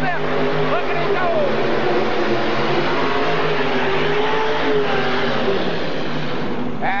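A modified pulling tractor powered by two 557 Aries engines roars at full power during a 1986 indoor tractor pull, a loud continuous engine howl with shifting pitch and crowd or announcer sound underneath.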